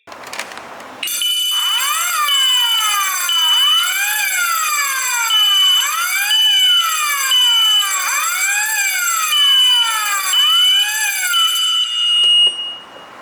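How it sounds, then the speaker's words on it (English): An AW-D106C waterproof strobe sounder alarm blares close and loud with a repeating sweeping siren tone over a steady high beep pattern, running continuously for about eleven seconds before stopping. "I will press the MCB so we can see the sounder is working"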